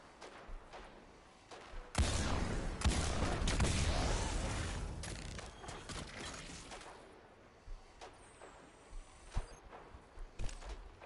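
Gunfire in a video game, with sharp sniper rifle reports: a loud blast opens a sustained burst of booming fire and rumble, followed by scattered single cracks and mechanical clicks spaced across the rest.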